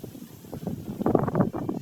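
Wind rushes and buffets against the microphone in a steady low roar, swelling slightly in gusts, with no voices.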